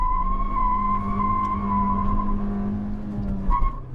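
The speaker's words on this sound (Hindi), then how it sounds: "इसका व्हील स्पिन क्रेजी होता है, थोड़ा भी रेजिस्टेंस नहीं है" Hyundai Verna 1.5 turbo engine holding a steady high rev with a sustained droning tone while the wheels spin, a brief squeal rising near the end.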